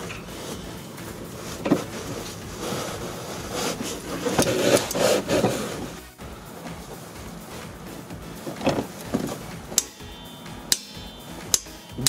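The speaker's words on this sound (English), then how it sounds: "the torque wrench will click when we reach the torque" A torque wrench tightening a rear brake caliper bolt on a Dodge Journey, with scraping and ratcheting first, then a few sharp, isolated metallic clicks close by in an otherwise quiet space.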